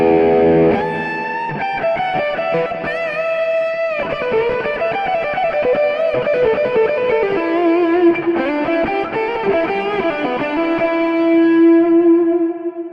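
An electric guitar plays an ATX lead tone through Neural Amp Modeler, with sustained distorted notes, quick runs and bends, and a long held note near the end, loud and alone.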